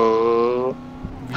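Loud car engine from GTA MTA gameplay revving with a harmonic whine, then dropping to a lower rumble before a brief rise at the end, heard close with no talk.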